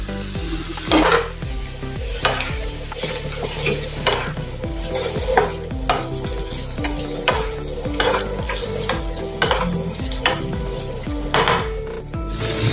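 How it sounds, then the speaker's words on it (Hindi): Fried paneer cubes are tipped into sizzling capsicum in a pan and stirred, with continuous frying sizzle under repeated scraping, clanking stirs of a utensil against the pan. "अभी इसमें हम पनीर डालेंगे, तले हुए थे वो इसमें डाल देंगे पनीर"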